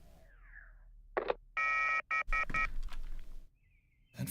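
A telephone rings in the YIIK video game with several quick, bright electronic ring bursts in a row, framed by softer synthetic game sounds before and after.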